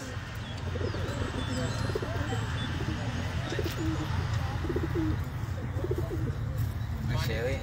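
Racing pigeons from three clubs, carried in a pigeon transport vehicle at Inani beach in Cox's Bazar, coo repeatedly and softly over a steady, loud background rumble and wash of noise.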